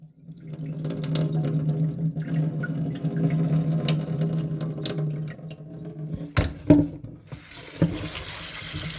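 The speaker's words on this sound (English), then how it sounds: "Drain the water." Water drained from soaked sabudana tapioca pearls, a steady close pouring and trickling flow that breaks into irregular splashes and knocks near the end.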